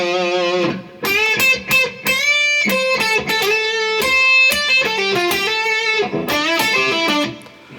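Electric guitar plays the opening line of a guitar solo in standard tuning, a run of sustained, bent lead notes with clean attacks and a few brief gaps, heard alone and close.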